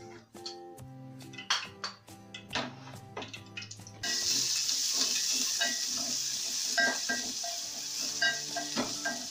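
Onions sautéing in hot oil for a simple egg curry, scattered clinks and stirring scrapes at first, then a steady louder sizzle with ongoing utensil taps.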